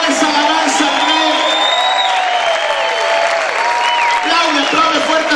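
A church congregation applauds loudly in praise, sustained clapping mixed with cheers and whoops, while voices shout and sing over the top throughout.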